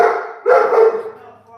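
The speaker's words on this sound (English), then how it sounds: "Grandpa's telling him to stop barking." A dog barks close by, one short bark followed by a longer, howling bark that trails off.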